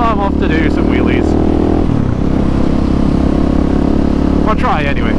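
Motorcycle engine droning loud and steady close by, revving with a shift in pitch partway through, while a person talks over it.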